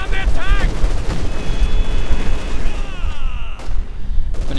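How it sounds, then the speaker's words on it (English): Sustained machine gun fire from a Maxim bunker in the Company of Heroes 2 strategy game, dense bursts of battle noise with distant booms, loud throughout, mixed with other combat sounds. "It looks like we do have a machine gun bunker up now."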